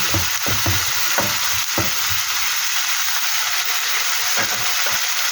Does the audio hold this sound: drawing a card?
no